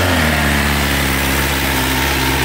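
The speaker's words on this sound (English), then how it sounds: "Let's get this cold start going" BMW S1000XR motorcycle engine running at a cold start idle, a loud, dense, continuous buzzing drone that stays steady throughout.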